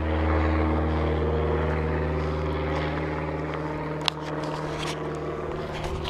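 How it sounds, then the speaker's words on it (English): A low-flying propeller plane towing a glider over the Scottish Highlands gives a steady, loud engine drone that fills the whole stretch, with a brief sharp click near the end. "Low flying plane, it's a glider. It's a plane pulling the glider."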